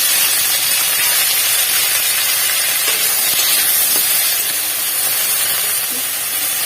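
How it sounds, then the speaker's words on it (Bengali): Washed okra hits hot oil in a kadai, setting off a loud, steady sizzle and hiss that holds evenly for several seconds with no talking. "ঢ্যাঁড়সগুলো আগে ধুয়ে নিয়েছি আমি দিয়ে দিচ্ছি কড়াইয়ে"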